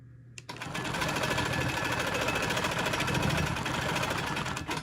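Sewing machine running fast and steady while quilting stitch in the ditch, starting after a brief pause into a continuous rapid mechanical whir with even stitch rhythm, close and loud.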